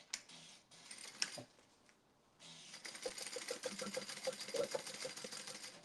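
A sewing machine basts fabric pieces for a waist pack, with quiet handling clicks and a pause before a steady, faint run of stitching in the second half.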